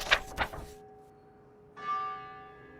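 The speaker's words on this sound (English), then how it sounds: "The castle bells rung on a merry peal at the approach of a winter twilight" Two quick castle bell strokes ring out, followed after a short pause by a sustained, resonant bell tone that slowly fades.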